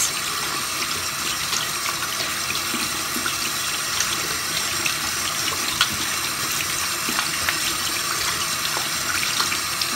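Tap water runs steadily into a sink while soap is rinsed off hands, a continuous, close hiss with small splashes and no talking throughout.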